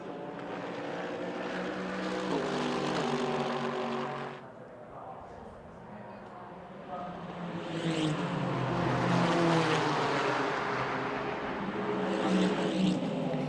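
A Nissan GT-R GT3 and a Mercedes-AMG GT3 race car roar through a Fuji 24-hour endurance race. Their engine notes rise and fall as the cars pass, with a brief dip before a louder surge.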